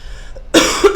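A single sharp cough lands close on a microphone after a near-silent pause, loud and abrupt, with a short second burst at the end.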